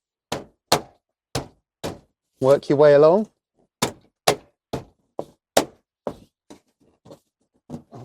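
A Tesla Model X rear trim panel is banged into place by hand in a series of sharp, hollow plastic thumps at a slow, uneven pace, with a person briefly speaking in the middle.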